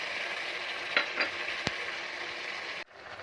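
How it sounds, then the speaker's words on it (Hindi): Potatoes, peas, carrots and fenugreek leaves fry in a pan with a steady, close sizzle and a few sharp stirring clicks, before the sound abruptly drops near the end. "इसमें हम गाजर ऐड कर देंगे और साथ ही मेथी भी। और फिर हम इसको और 2 से 3 मिनट के लिए फ्राई करेंगे।"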